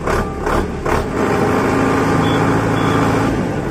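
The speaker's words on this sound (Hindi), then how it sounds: "तो देखिए आप इसका ये इसकी स्टार्टिंग है इस ट्रैक्टर की।" Solis tractor engine running steadily near the microphone, a continuous loud mechanical drone with a few rattling surges in the first second before settling into an even idle.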